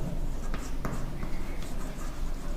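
Chalk or marker scratching across a board during a surface chemistry lecture, a few short strokes over steady room noise with no speech.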